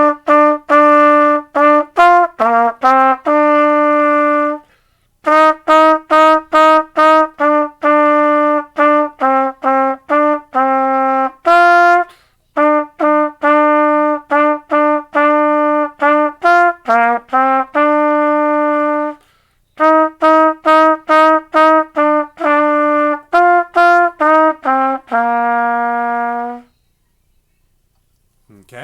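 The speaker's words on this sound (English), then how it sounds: "I will play Jingle Bells for you." A trumpet plays Jingle Bells as a clear solo, bright, close, detached notes in short phrases separated by brief pauses, ending on a long held tone.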